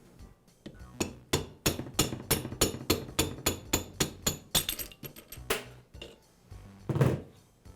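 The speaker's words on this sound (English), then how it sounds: "use a rubber mallet to tap the armature free of the bearing" A rubber mallet strikes repeatedly on a DeWALT grinder armature held on a bearing separator in a vise, about a dozen evenly spaced sharp knocks, then a few irregular taps and a final heavier blow.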